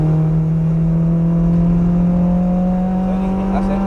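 Race car with a 2ZZ engine accelerating at full power on the Donington circuit, a loud, sustained, close engine drone whose pitch climbs steadily and alone, with no talk.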